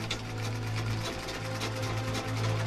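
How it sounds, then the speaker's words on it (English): A sewing machine runs continuously, its motor holding a steady low hum under a fast, even mechanical chatter of the needle, close and fairly loud, with no speech heard. "the rhythm of the sewing machine"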